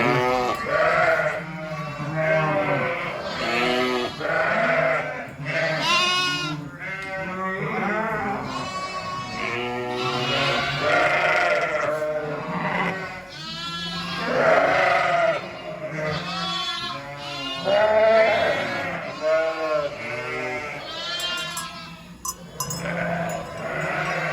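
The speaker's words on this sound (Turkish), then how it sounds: "Evet koyunlarımız, kuzularımız." Flock of sheep and lambs bleating on a farm where lambing is under way, many overlapping baa calls at different pitches, some near and loud, others farther off, continuing without pause.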